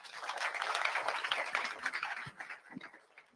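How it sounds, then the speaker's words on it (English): An audience at a live driver meeting claps for a speaker, a dense round of applause that stays strong, then thins and fades over a few seconds. "So let's give him a round of applause."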